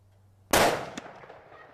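A single sharp, loud gunshot cracks into a test target of a pork roast with cinder blocks, with a short reflection and a fading tail afterward.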